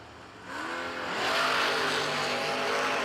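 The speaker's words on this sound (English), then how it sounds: "You hear Scharf working, and you see Scharf winning." A long-roof Malibu wagon drag race car's engine roars and builds as it accelerates hard at a no-delay drag race, the tone rising and growing louder over a few seconds, heard from some distance.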